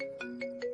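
A phone ringtone plays softly, a repeating electronic melody with three short note changes in under a second, an unanswered call.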